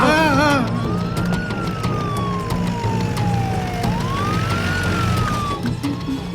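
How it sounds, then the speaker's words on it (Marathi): A wailing police car siren in a Marathi film scene rises and falls in long sweeping tones, loud and continuous, with voices and background noise underneath. "पोलिसांची गाडी यायला लागली आहे"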